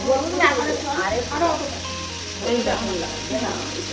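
Water hits a hot frying pan and sizzles loudly and close, with bursts of crackling spitting, while several people chat in the kitchen.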